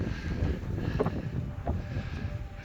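Wind gusting across a Scottish mountain ridge near Crianlarich, buffeting the microphone with a steady low rumble and rushing noise, heard alone without speech.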